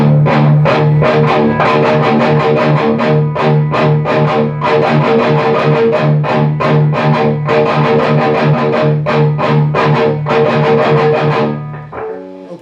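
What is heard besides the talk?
distorted guitar chugging on low strings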